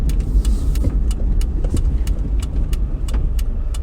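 Car turning past on a road, a close rumbling engine and tyre noise sustained throughout, overlaid by a regular rapid ticking.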